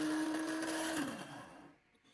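An Arçelik KO 9410 electric coffee grinder whirs with a steady motor hum, running loudly and close, then winding down and fading out near the end.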